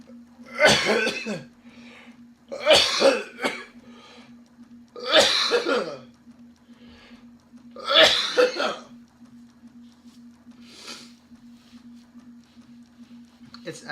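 Four harsh, loud coughing bursts spaced a couple of seconds apart, then a fainter one, over a steady low hum in a quiet room.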